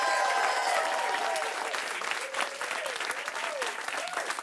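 A studio audience at a live improvised musical show gives loud, sustained applause and cheers, with dense clapping throughout. A voice can be heard faintly over the crowd.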